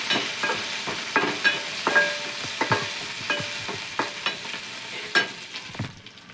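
Coarsely ground chili paste and coriander get stirred into a sizzling potato and semolina mixture in a pan, with a spoon scraping and tapping in a quick rhythm over steady frying noise, close up and without speech.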